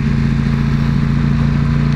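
A Ducati Panigale V4 S motorcycle engine roars loud and close in a steady, dense drone that holds at a sustained high pitch, with no voices.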